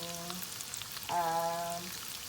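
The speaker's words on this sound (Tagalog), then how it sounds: "So, yung ating mantika is leftover oil, yung ginamit ko. Ayan, so magpiprito muna tayo ng dilis." Dried anchovies (dilis) fry in leftover cooking oil with a soft, steady sizzle, close but fairly quiet, while a voice speaks over it.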